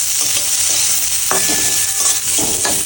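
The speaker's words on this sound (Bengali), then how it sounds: "এরপর রসুন দেওয়া হচ্ছে আর সাথে হচ্ছে আদা কুচি" Garlic and chopped ginger frying in hot oil for a coriander green prawn curry, a loud steady sizzle throughout with several scraping spatula strokes stirring the pan up close, no talking.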